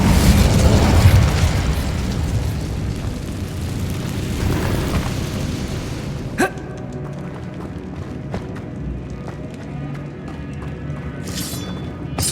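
A fire spell in Hogwarts Legacy bursts with a loud, rumbling blast that fades into crackling, followed by a sharp pop and later a second short burst.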